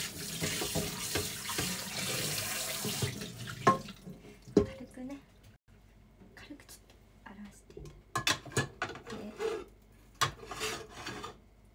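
Water runs hard from a kitchen tap while a frying pan is washed in the sink: a steady close rush for about four seconds, then scattered clinks, rubbing and splashes as the flow stops and starts.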